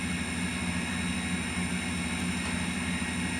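A lathe turns an acrylic pen blank, giving a steady, loud, unbroken motor drone with a dense hum that holds without change throughout.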